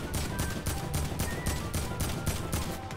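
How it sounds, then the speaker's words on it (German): Fast, steady automatic gunfire in the Fortnite Bedwars video game, a loud rhythmic stream of evenly spaced shots with nothing else heard. "Mich schießen zwei Leute ab."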